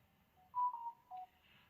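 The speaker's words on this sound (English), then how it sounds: "Oh, you have the same ringtone as one of my coworkers." A phone's message notification chimes with a short sequence of three or four electronic beeps in rising and falling pitch, clear but fairly quiet against a near-silent background.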